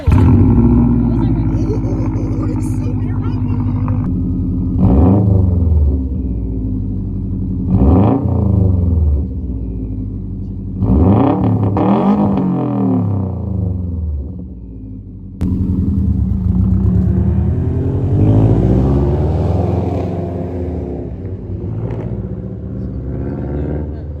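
A 2016 Subaru WRX STI fitted with an AWE Track Edition catback exhaust cold-starts in a parking lot, settling into a loud, deep burbling idle with several revs that rise and fall, while people talk over it.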